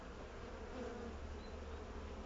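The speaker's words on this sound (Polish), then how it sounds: "No patrzcie, jak pszczoły wiszą," A dense, steady hum of honeybees buzzing close by, continuous throughout with a low droning body and no voices.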